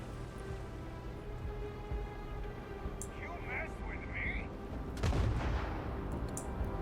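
Enemy gunfire in the video game Starfield, a few scattered shots and a louder burst near the end over steady rain-like background noise, with a voice talking at points.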